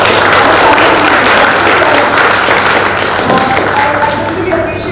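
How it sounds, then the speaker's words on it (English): Loud applause from an evening audience at a startup founders event, a thick wash of clapping with a low steady hum beneath, slowly easing in level, with some voices mixed in. "Let's have a loud round of applause for everybody who's been here on this Sunday evening."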